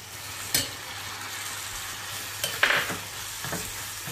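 Tomatoes stirred into a pan of sizzling pav bhaji vegetables with green peas, a faint steady frying hiss broken by a few soft scraping stirs of a spatula.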